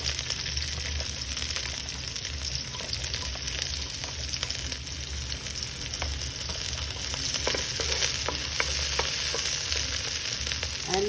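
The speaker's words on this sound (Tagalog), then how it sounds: "saute the garlic" Garlic and onion sautéing in a pan, a steady close sizzle and crackle of frying running throughout with occasional stirring clicks, no talk.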